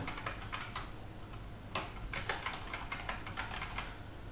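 Rapid clattering keystrokes on a faulty computer keyboard, typed in uneven bursts over a steady low hum, close and moderately loud with no talking.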